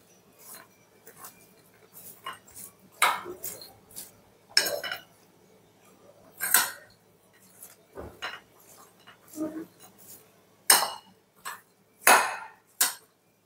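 Sprouts salad tossed with lemon juice in a bowl, heard as a series of irregular close clinks and scrapes of a spoon against the bowl, with quiet pauses between strokes.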